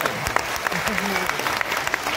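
People at an annual state community meeting applaud, a short, dense burst of clapping with faint voices underneath.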